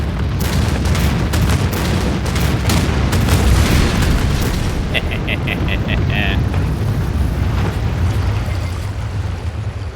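Missile bombardment in the strategy game Anno 2205 rumbles as a steady, loud wash of booms and explosion noise, with a short run of beeping interface tones in the middle.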